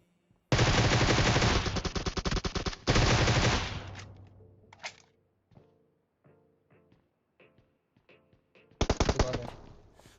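A Groza assault rifle in PUBG Mobile fires two long, loud automatic bursts, then scattered single shots and short volleys, ending with another rapid burst. No talking is heard over the gunfire.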